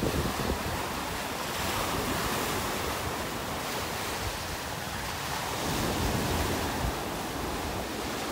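Ocean surf rolls onto a beach in North Naples, Florida, a steady close wash of breaking waves with heavy wind buffeting the microphone, no voices.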